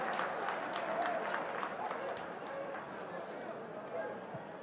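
A football stadium crowd at a Wehen Wiesbaden vs Bayern Munich friendly gives a broad, steady murmur of oohs and reactions, with a commentator's voice running over the crowd noise.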